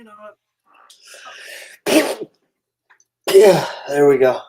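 A single sharp sneeze bursts out partway through a casual radio show conversation, with talking before and after it.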